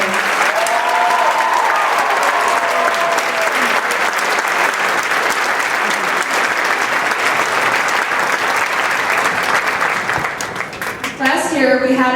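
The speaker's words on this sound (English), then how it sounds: "Please give a round of applause for Kyle, Peyton, Noah, Sarah, and Ray." A school community event audience gives a long, steady round of applause for the keyboard players, dense and close throughout. It fades out near the end, and a brief different sound follows.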